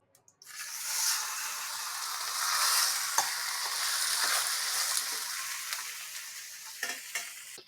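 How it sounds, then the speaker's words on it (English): Beef tallow sizzles steadily in a frying pan, a dense bright hiss running throughout with a few sharp pops and crackles near the end, close and fairly loud with no talking. "gonna try my best not to get smoked by this tallow popping"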